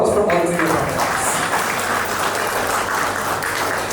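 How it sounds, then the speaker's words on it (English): A crowd at the Hyderabad Literary Fest 2023 applauds three award winners, a loud, sustained, dense clapping with a voice heard over the start. "A huge round of applause for all 3 of our winners."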